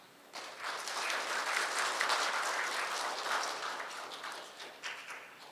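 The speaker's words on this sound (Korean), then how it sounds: "한 분 한 분 호명될 때마다 큰 박수 부탁드리겠습니다" An audience at a seminar opening ceremony claps as guests are introduced, a soft, fairly distant patter of applause that swells and holds for several seconds before tapering off.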